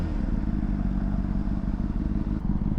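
Motorcycle fitted with fairings ridden at low speed off the freeway, its steady mid-pitched engine drone close and continuous, with wind noise and a light rattling clatter throughout.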